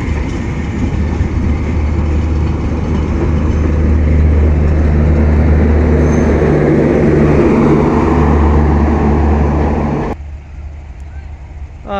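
A newly painted passenger train at Joydebpur station, bound for Dhaka Kamalapur, gives a loud, steady rumble with humming tones for about ten seconds before the noise abruptly drops away.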